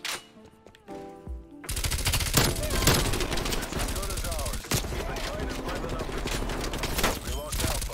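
Sustained automatic gunfire with red tracer rounds in Call of Duty Cold War/Warzone, loud and continuous from start to finish as dense rapid bursts, with brief quieter moments at the opening before the firing takes over.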